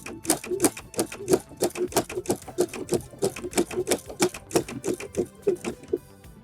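Sewing machine doing free motion embroidery with a spring needle, stitching in a steady rapid clatter of needle strokes that runs close and continuous for several seconds.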